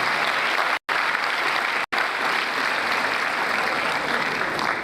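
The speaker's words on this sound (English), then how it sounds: "So put your hands together for all that have been" Audience at a medical graduating class induction ceremony breaks into sustained, dense applause that fills the room evenly, cut by two brief dropouts, with no voices rising above the clapping.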